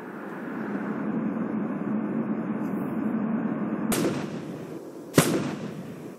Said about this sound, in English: You just shot out your own window.